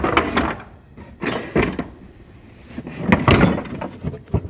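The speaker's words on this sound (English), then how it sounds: "Let's pull all these drawers forward" Wooden drawers of an antique 170-year-old tool chest slide forward one after another, a run of close, fairly loud scraping and knocking thuds with short pauses, no voices.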